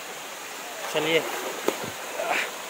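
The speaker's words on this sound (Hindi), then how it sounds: "गाइस मेरे पीछे वाटरफॉल है" A waterfall on Baratang Island gives a soft, steady rushing wash in the background while someone speaks over it nearby.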